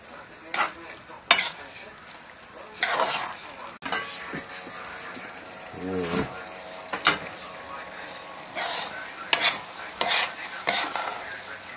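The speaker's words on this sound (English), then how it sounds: "And just stir like this." Food is stirred in a pan with repeated scraping bursts of a spoon against metal over a low sizzle, irregular strokes spread across the stretch, with a brief voice murmur in the middle.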